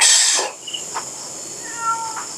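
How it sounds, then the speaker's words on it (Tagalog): A cat meows at night in San Felipe cemetery, a few short, fairly faint cries over steady insect-like background hiss. "Andiyan na naman yung pusa."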